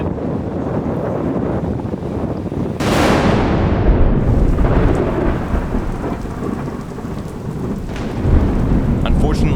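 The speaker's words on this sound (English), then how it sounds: "it started storming really hard" Heavy thunderstorm rain in Costa Rica pours steadily while a loud crack of thunder breaks and rumbles off, with wind buffeting the microphone throughout.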